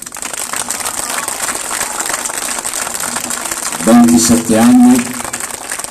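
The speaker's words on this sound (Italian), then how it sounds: "di salutare con un applauso" Crowd at a political gathering applauding in memory of Giovanni Falcone on the anniversary of his killing, a continuous patter of clapping under a voice, with louder speech breaking through near the end.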